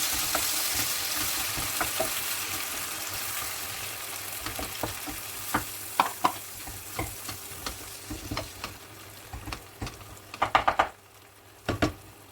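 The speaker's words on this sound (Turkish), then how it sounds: "Şimdi bu sosu biberlerimin içerisine aktarıyorum. Ve karıştırıyorum bu şekilde." Sauce stirred into fried peppers in a pan, a soft frying hiss under repeated scraping strokes and clicks of a utensil that grow louder and more frequent toward the end.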